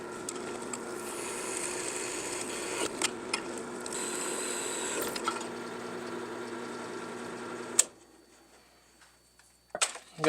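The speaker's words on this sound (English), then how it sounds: "All right, I'm going to drill a bunch of smaller holes in." Small drill boring a series of holes into a Damascus steel knife blank, a steady mid-pitched whir running for several seconds with brief catches, then cutting off to near silence before a few sharp knocks.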